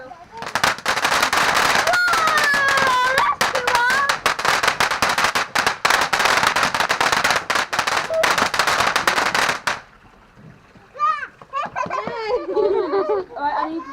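Fireworks on bonfire night crackle in a dense, loud barrage of rapid pops for about ten seconds, then stop abruptly, leaving children talking and exclaiming close by.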